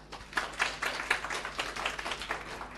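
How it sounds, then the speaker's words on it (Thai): A seminar audience claps to open the event, a steady patter of many hands at moderate distance, fairly soft and continuing for a few seconds without talk. "ขอเสียงปรบมือเปิดงานสัมมนาในวันนี้ดังๆเลยครับ"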